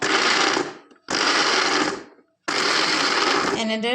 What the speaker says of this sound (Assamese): এনেদৰে ঢাকনিখন মাৰি মই পিচি ল'ম ধুনীয়াকৈ